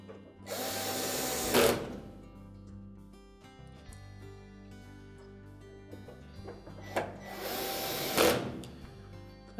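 A power screwdriver drives the retaining screws back into a GE washer console against the back panel, with two short whirring bursts several seconds apart over quiet background.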